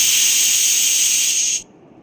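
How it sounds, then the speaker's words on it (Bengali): A stovetop pressure cooker whistle releases a loud, steady jet of steam as mutton cooks inside with Kashmiri red chilli, hissing close up before cutting off abruptly. "এবার প্রেশার কুকারে এটা 4টে থেকে 5টা সিটি দিয়ে দেবো।"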